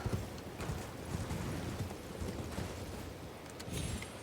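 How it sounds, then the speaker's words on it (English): Horse hooves clip-clop in Elden Ring, a quick, uneven run of moderately loud hoof strikes mixed with game background noise. "There's a horse loose in the hospital."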